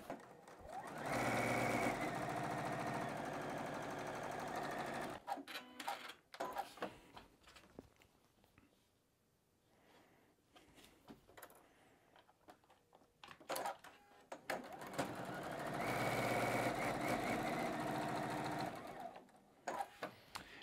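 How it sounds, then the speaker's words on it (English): A sewing machine stitching black fabric squares onto quilt cornerstone blocks runs in two steady, fast-chattering bursts, separated by a quieter stretch of handling noises. "We're going to grab those last 4 of the black squares and we're just going to sew those on"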